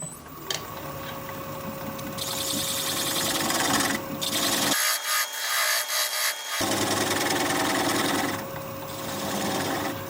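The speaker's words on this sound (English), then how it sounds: "swept back gouge, and I'll adjust my tool rest so that I'm a little closer, and we'll complete the tenon removal" A swept-back gouge cuts the tenon off a wooden bowl spinning on a lathe. The sound is a loud, close, continuous scraping hiss with a steady motor whine underneath, and it thins out briefly midway.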